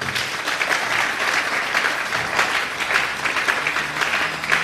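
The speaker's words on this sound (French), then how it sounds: "Est-ce que nous pouvons acclamer très fort?" A church audience at a pastor's talk on relationships breaks into loud, sustained applause with scattered cheering, a dense even clatter of many hands that fills the hall from start to finish.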